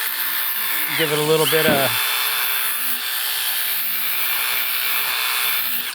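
DeWalt 18-inch band file sanding wood, a brief whirring grind of about a second whose pitch sags under load, followed by a steady motor hum, with someone talking over it.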